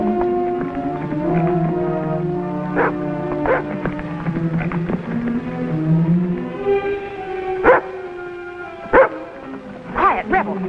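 A dog named Rebel barks in a 1950s TV Western, several sharp yips and barks spread across the stretch, the last few louder and spaced apart, with a voice and other sounds underneath.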